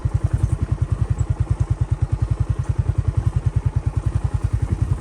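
A motorcycle engine chugs steadily nearby while riding, its rapid even thumping pulses running throughout with no talking.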